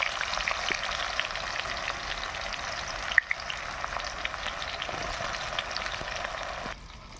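Bay leaves and onions frying in hot oil for a home-style chicken curry, an even crackling sizzle close by with a few sharp pops, a brief clatter midway, then quieting slightly at the end, no one speaking.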